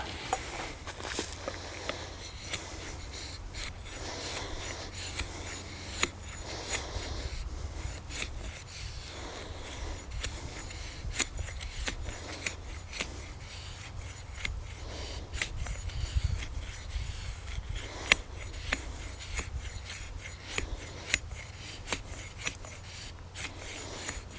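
A Schrade Bolo machete shaves wood into feather sticks for fire starting, giving a steady series of dry rasping, scraping strokes that repeat close up for the whole stretch with no talk.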